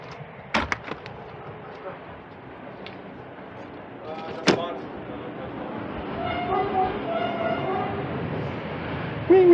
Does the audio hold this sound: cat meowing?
no